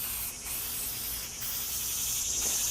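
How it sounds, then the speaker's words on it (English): Aerosol can spraying wood stain onto a door from a few inches away, a steady close hiss in repeated strokes with brief dips between passes, continuing almost without pause. "I use even spray strokes with it. I keep the can a few inches away."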